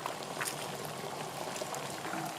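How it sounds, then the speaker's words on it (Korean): A pot of water at a rolling boil for cooking glass noodles, a steady dense bubbling hiss with no pauses, close but fairly quiet. "당면을 삶을 물을 끓여 보겠습니다"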